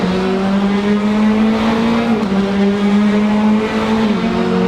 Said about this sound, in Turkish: Birinci vitese atıyoruz. Tam gaz. Araç zaten kalkışı kendisi hallediyor.